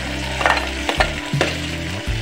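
Carrots and peas go into a hot, sizzling pan for veg pulao, with a steady frying crackle broken by several scraping stirs at uneven intervals, up close and without talk.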